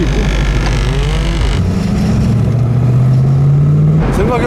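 An old car's exhaust roars as it accelerates through central Gangnam, Seoul, loud and close, with the engine note climbing steadily through the gears.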